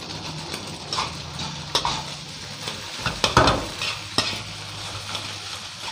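A metal spatula stirs rice into just-set egg in a hot pan, Thai fried rice with Chinese kale and salted fish: close, irregular scrapes and clacks over a steady sizzle, with no talking.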